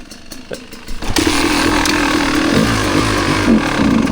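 A 25-year-old Kawasaki KX250 two-stroke motorcycle gives a few light clicks of the kick-start, then its engine bursts into a loud, raspy, continuous roar up close.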